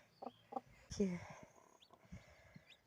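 A broody hen sits with her chicks, giving soft clucks and a short squawk, with faint peeping around her. Someone speaks quietly nearby.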